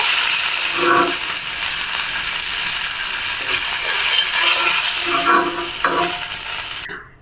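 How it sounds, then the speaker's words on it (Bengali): Hilsa fish pieces frying lightly in oil in a wok: a continuous close hiss and sizzle with a few soft stirring or utensil knocks, cutting off abruptly at the end, with no talk. "দেখুন বন্ধুরা মাছগুলো আমি হালকা একটু ভেজে নিয়েছি"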